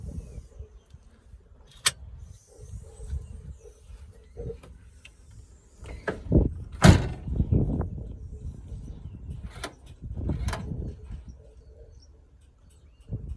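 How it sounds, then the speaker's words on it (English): Door locks cycling on a Holden Commodore VZ with a no-crank fault, several sharp mechanical clunks and clicks scattered over quiet intervals amid faint rustling and handling noise close up. "Cycles the doors"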